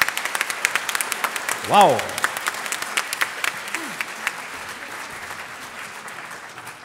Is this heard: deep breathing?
no